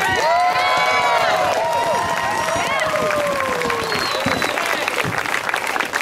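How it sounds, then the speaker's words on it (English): Crowd applause and cheering at a May Day gathering in Portland, Oregon, where a house was reclaimed; steady clapping under whoops and high shouts, loud at first and continuing throughout. "give yourselves a big round of applause"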